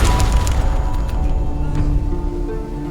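A ship's guns fire in the video game Sunless Sea, a heavy low boom with sharp cracks at the start, then a rumbling roar that slowly fades.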